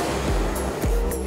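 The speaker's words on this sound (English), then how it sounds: "we're at the Cavern Cascade, and this waterfall you can reach out and touch" Close, steady roar of the Cavern Cascade waterfall in Watkins Glen, a continuous broadband rush of falling water with a few low thumps mixed in.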